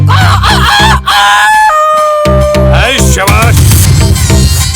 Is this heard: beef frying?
no